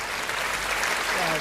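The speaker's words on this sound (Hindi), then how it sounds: "ताली बजाओ, सांस लेना है।" Audience applause at a Hindi kavi sammelan poetry gathering, a brief, dense and even patter of many hands clapping at moderate volume, without voices.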